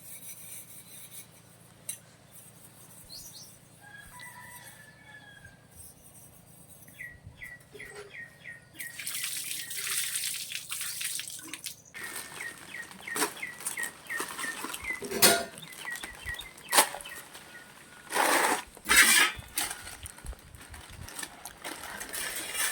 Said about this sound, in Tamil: கரண்டி கழுவிட்டு இருக்காங்க அம்மா